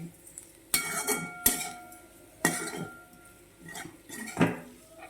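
A metal spoon clinks and scrapes against a pan as sugar is stirred into an ivy gourd (tindora) and potato curry, several separate sharp knocks with quiet gaps between them.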